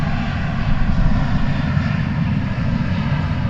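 An American Airlines jet taxiing toward takeoff at DFW Airport gives a steady, loud engine roar, constant and unbroken with no voices.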